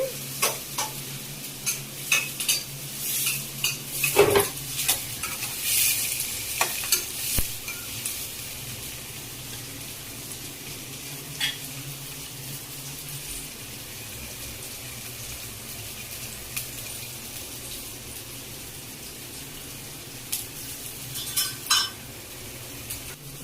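Mustard seeds, green chillies and onions fry in oil in a pan, with a low steady sizzle, clinks and scrapes of stirring, and a brief burst of running water.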